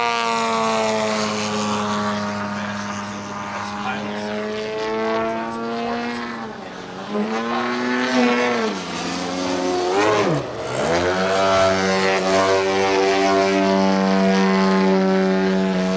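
A loud, steady engine drone with rising and falling pitch as an Extreme Flight 40% Slick 580 radio-controlled aerobatic propeller airplane swoops and turns overhead, no voices.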